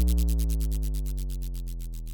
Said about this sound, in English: And I also added this bass sound for the transition between this very melodic intro and the drop that's really bass oriented